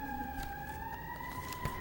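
An emergency siren wails steadily in a single long tone outside during a city license commission meeting, heard at moderate distance with faint room noise beneath it.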